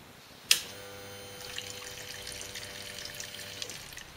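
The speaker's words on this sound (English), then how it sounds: "If there is a continuous fuel flow, everything is done perfect." Fuel trickles and pours in a thin, steady stream from a disconnected hose at the injection nozzle of a Swissauto 250 EFI, faint and close. A sharp click comes at the start and a low hum runs underneath.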